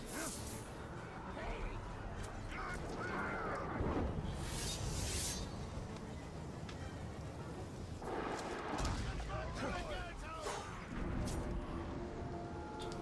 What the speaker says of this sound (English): Doomed in a fiery explosion.